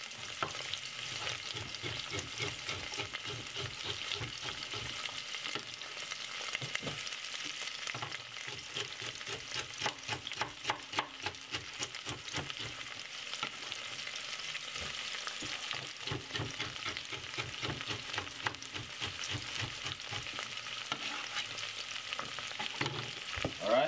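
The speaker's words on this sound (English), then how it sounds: "So we're gonna fry up those." Celery and other vegetables stir-fry in a pan, giving a continuous sizzle broken by a rapid, steady run of scraping stirs that lasts the whole time, with no talking.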